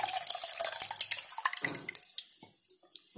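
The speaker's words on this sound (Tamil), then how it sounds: "இதில் நம்ம கரைச்சி வச்சுருக்கோம் இல்லையா அந்த புளித்தண்ணியை அப்படியே ஊற்றிடுவோம்." Tamarind water is poured into mashed tomatoes for betel leaf rasam, a short close splashing trickle that tapers into a few faint drips.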